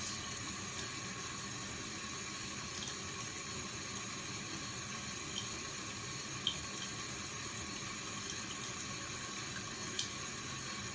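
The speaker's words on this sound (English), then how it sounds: "So I'll basically just wet the hair first." Water runs steadily from a tap as hair is wetted, a constant soft hiss with no voices.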